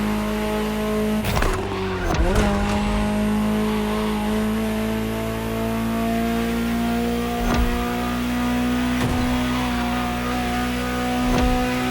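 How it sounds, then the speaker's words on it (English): A Ferrari supercar engine in the video game The Crew Motorfest drones steadily at high revs, with sharp bursts of acceleration and a few quick tire chirps layered over the sustained roar. "Just listen to the car you're driving."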